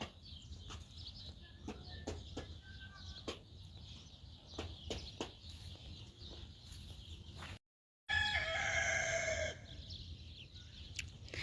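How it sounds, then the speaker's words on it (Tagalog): Native chickens on a farm cluck and call at a distance among scattered bird sounds, with a louder burst of crowing-like calls near the end. "May mga manok din sila dito."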